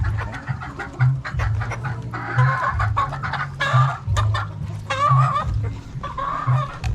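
Chickens cluck repeatedly close by in a feeding area, with steady low clucking and occasional louder squawks layered over one another throughout.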